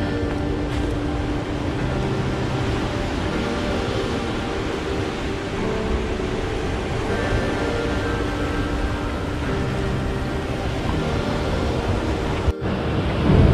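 Steady wash of ocean surf with wind noise at Karang Nini beach, Pangandaran, a continuous rushing roar at moderate distance, no voices.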